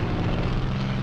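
Helicopter in the video game Call of Duty: Modern Warfare, a loud, steady droning engine and rotor hum that stays even throughout with no speech over it.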